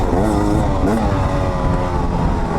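A 2020 Beta 300RR two-stroke enduro motorcycle engine runs loud and close, its buzzing exhaust note rising and falling with throttle blips over about two and a half seconds of steady riding.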